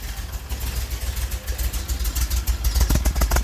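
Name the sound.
car engine idling low and rough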